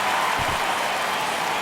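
Home crowd at a Kansas City Royals vs Detroit Tigers baseball game roaring after a home run, a steady, dense wall of cheering that holds loud throughout.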